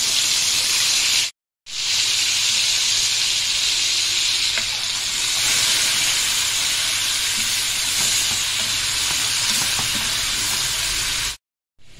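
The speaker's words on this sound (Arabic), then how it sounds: "حط بقى نص التتبيله بتاعتي، هنزل عليها في الزيت بالشكل ده." Marinated lamb liver, kidney and heart for Alexandrian-style liver drop into hot oil and fry with a loud, steady, hissing sizzle that runs almost unbroken, close up, with two brief silent gaps.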